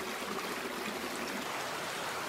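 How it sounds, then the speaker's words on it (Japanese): A steady river stream sound played from a Kokoon sound device, a soft, continuous rushing and trickling of water with no talk. "いいね、川の音ですね"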